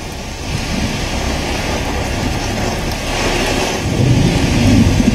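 Heavy rain falls in New Delhi with a dense, continuous roar that swells louder toward the end, and no voices can be heard over it.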